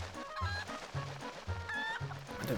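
A brown chicken clucks in The Legend of Zelda: Twilight Princess HD, repeated short low clucks in a steady rhythm, set against game music with melodic tones above, no voices.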